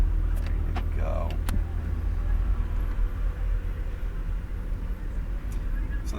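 A car lapping a race track behind a green Porsche, with a steady low engine drone throughout, a few faint clicks and rattles near the start, and muffled voices in the background.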